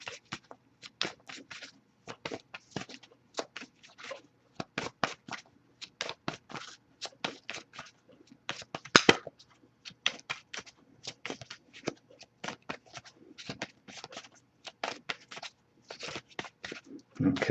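A deck of tarot cards is shuffled by hand in quick, crisp bursts of riffling and slapping, close and fairly quiet, repeating with short pauses between bursts over a silent background.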